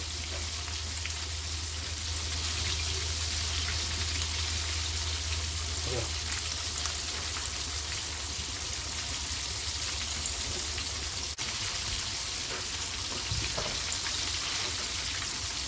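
Spicy chicken pieces fry in hot oil with a steady, dense crackling sizzle that runs unbroken throughout, loud and close.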